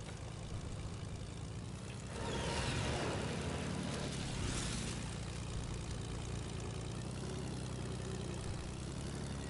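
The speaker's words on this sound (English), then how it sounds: "I'm driving the plane." A plane's engine in the Fortnite video game drones loudly and steadily throughout, a dense continuous hum that swells briefly partway through.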